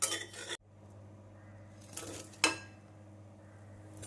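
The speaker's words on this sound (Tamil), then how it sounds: "சேப்பங்கிழங்கு சேர்த்து ஒரு முறை நன்றாக மிக்ஸ் செய்து" Colocasia pieces are stirred with masala in a pan, with a few distinct clinks and scrapes of a utensil against the metal over a faint low background.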